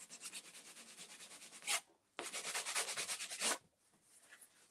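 A sanding sponge rubs back and forth over wood in quick, even strokes, two close bursts of scratchy rasping separated by a short pause.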